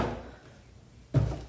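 A bathroom drawer in a rental apartment slides open quietly with a soft rumble, then ends in a single solid knock as it stops.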